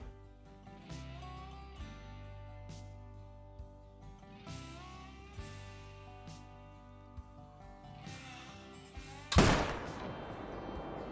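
A single loud rifle shot cracks out near the end, sharp and sudden over a low ambient music bed, in the Call of the Wild hunting video game.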